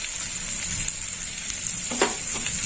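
Cashew and poppy seed paste hits a hot pan of soybean curry, giving a steady bright sizzle with a short stirring scrape near the end, close and alone.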